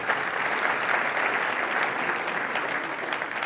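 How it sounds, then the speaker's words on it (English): A conference keynote audience claps for event sponsors, a steady, even wash of many hands at moderate volume that continues without a break from start to finish. "let's give a big round of applause for them"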